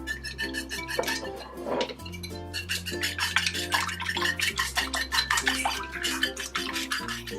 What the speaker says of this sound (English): let's go ahead and give that a little whisk